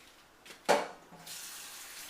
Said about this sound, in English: put the lentils in the pan, and then cover them with water